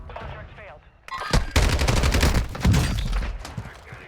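Rapid automatic fire from a Lachmann 556 rifle in Warzone 2.0, a loud, dense burst of shots that starts after a quiet moment and rattles on for nearly three seconds, with a faint voice at the start.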